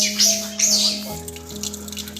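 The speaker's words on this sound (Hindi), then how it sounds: "ये है त्रिकुटी का झरना," Water from the Trikut mountain waterfall on the Trikuta hill near Deoghar runs steadily through a fitted tap, a constant close splash with bright hiss, heard alone.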